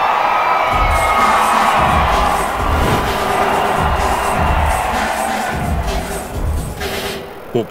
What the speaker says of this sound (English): the players will love coming out of the tunnel to a huge roar